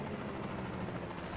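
Helicopters in the American Truck Simulator video game, a continuous dense rotor throb and engine roar that fills a short moment at steady loudness.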